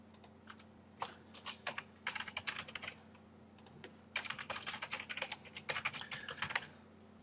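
Fingers typing on a computer keyboard in quick irregular clusters of close, crisp key clicks, pausing briefly between bursts over a faint steady background hum.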